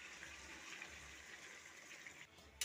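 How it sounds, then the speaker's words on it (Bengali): Water poured into a pan of meat being cooked for curry, a steady close gushing wash for a few seconds, ending with a brief clatter. "কষানো হয়ে গেছে, তেল ছেড়ে গেছে, এবার জল ঢেলে দেবো।"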